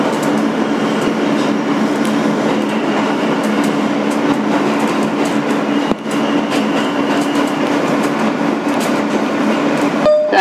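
A 2008 Kawasaki R-160B N subway train, car #8842, runs on the BMT Sea Beach line in New York, a loud continuous rumble and whine from inside the car with rhythmic rail clicks throughout.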